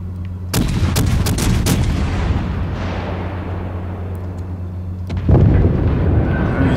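Torpedoes exploding against warships in World of Warships Legends: a rapid cluster of sharp, heavy blasts early on, a rumbling decay over a low engine drone, then one more loud burst near the end.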